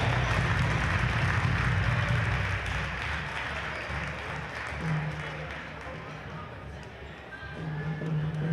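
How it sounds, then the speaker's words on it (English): Crowd applause for seniors and their parents at a high school volleyball match in a gym: sustained clapping that fills the hall, under a loud amplified announcer voice and a low hum. "Ladies and gentlemen, a round of applause for our seniors and their parents."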